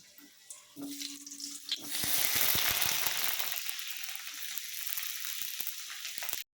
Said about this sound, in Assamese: বৰা ভাজা তেলতে এতিয়া আমি আলুখিনি অলপ ভাজি ল'ম।